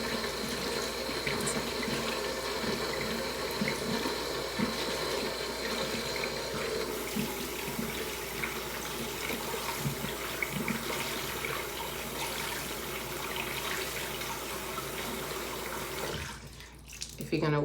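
Warm tap water running steadily into a sink to wet a makeup sponge, a continuous close splashing stream for most of the time that cuts off near the end.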